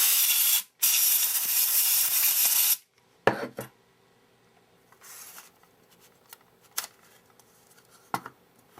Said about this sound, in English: You may be able to use a can of compressed air to blow the dirt out.